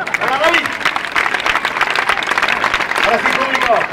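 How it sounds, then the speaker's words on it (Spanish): An audience applauds at a street show during the 2015 Bilbao festivities, steady clapping lasting the whole stretch with a performer's voice calling out over it. "¡Fuerte el aplauso!"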